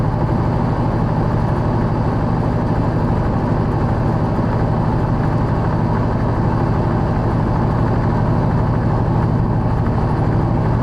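A truck engine pulls steadily at about 1,500 RPM on a grade, a loud, constant low drone that holds even throughout without shifts or breaks, heard from inside the cab with no talking.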